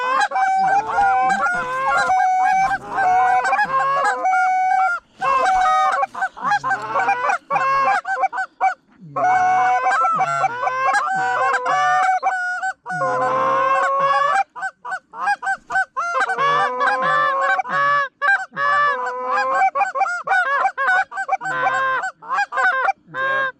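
A flock of geese honking over a field during a goose hunt, loud and near, with many overlapping calls in repeated bursts throughout.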